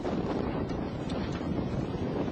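Steady, blustery wind on a chilly day outdoors buffets the microphone, a constant low rumble with gusty swells and no voices.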